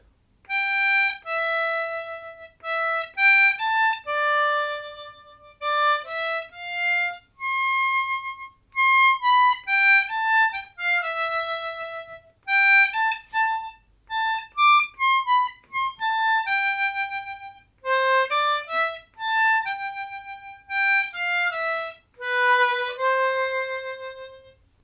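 A harmonica plays the chorus of a song alone, a steady run of clear, sustained single notes and short phrases with brief breaths between them, close and moderately loud, and no talking.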